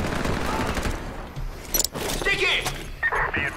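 Gunfire in the shooter game Ironsight: dense automatic bursts early, then a few separate sharp shots and clanks, loud and close, with a player talking over parts of it.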